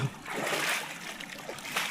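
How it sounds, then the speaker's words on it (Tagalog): Rushing floodwater splashes and churns steadily across a newly planted rice field in a broad wash of noise, with a person talking faintly over it. "Pagkalakas ng tubig. Ang lakas po ng pressure."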